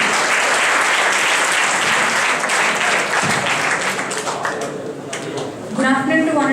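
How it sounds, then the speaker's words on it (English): An audience at a seminar claps continuously and fairly loudly, the applause thinning toward the end as voices come in underneath it. "Clap to Sonia."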